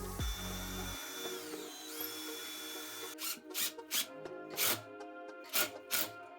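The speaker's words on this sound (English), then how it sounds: "I'll pre-drill some holes in the bottom and sink some screws in this thing." A power drill works bursts into pantry shelves, pre-drilling holes and driving screws: one long whir that ramps up and falls away early on, then a string of short, close, uneven zips and grinding pulses.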